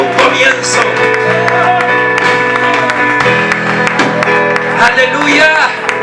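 A church congregation claps and cheers loudly throughout, a dense crowd sound carried under a preacher's energetic amplified voice and music.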